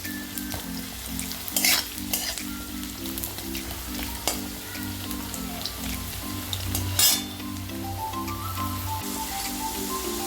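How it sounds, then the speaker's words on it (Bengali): Steady crackling sizzle of potatoes frying in hot oil, continuous and close, with a repeating low mechanical hum running underneath. "আলুটা ভেজে নেব, তারপরে ফুলকপিগুলো ভাজবো।"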